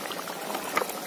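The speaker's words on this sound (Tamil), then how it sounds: "கொதிக்க விடுவோம்" Thick pepper garlic chicken gravy bubbling steadily at a simmer in a pan, soft pops and gurgles close by.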